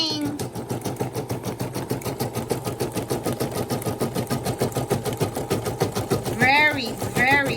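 A Brother SE1900 sewing machine stitches metallic thread in a steady, fast needle rhythm, close and continuous, with a few brief higher mechanical chirps near the end.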